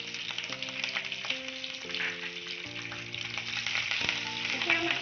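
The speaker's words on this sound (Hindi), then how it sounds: "इसे हम अच्छे से सौते कर लेंगे।" Garlic cloves sautéing in a pan with sesame seeds and curry leaves, giving a steady bright sizzle and crackle throughout, while soft music plays underneath and no one speaks.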